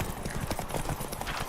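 Roach, Geralt's horse in the video game The Witcher 3: Wild Hunt, gallops in a steady, rapid clip-clop of hooves, close and fairly loud throughout with no voices.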